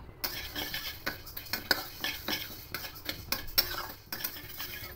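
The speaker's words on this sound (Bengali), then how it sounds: "এবার এটা শুকনো খোলায় কিছুক্ষণ ভেজে নেব" Moong dal being dry roasted in an empty wok, stirred with a metal spoon that scrapes and clinks in a steady run of close, fairly loud strokes, with a faint sizzle underneath and no talk.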